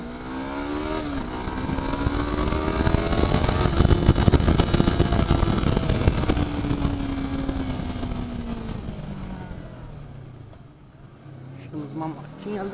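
Yamaha R3 motorcycle riding through city streets, a close, loud engine drone whose pitch rises and falls with throttle and gear changes, with voices talking over the ride.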